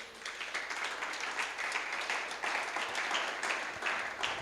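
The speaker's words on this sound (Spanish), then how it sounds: "Denle un aplauso, por favor," A church congregation breaks into applause, a steady wash of many hands clapping at moderate distance, fairly quiet and sustained without pauses.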